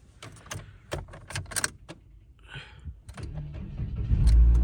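A 2016 Mitsubishi Lancer with a newly installed engine cranks after keys jangle and small clicks, then the engine catches and rises into a loud, close idle at the end.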